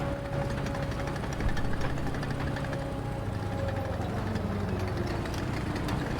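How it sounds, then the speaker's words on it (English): An aircraft engine in the combat flight game War Thunder idles with a steady, low, droning hum and a faint tonal whine, continuous for about six seconds with no voices. "Wait, I hear an engine sound."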